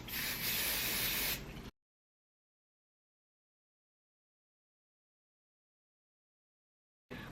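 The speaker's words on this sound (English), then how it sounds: "spray some of my lace adhesive on here" Liquid lace adhesive sprayed from a bottle onto a clear lace hairline, one loud close hiss lasting about a second and a half, then silence until a brief burst at the very end.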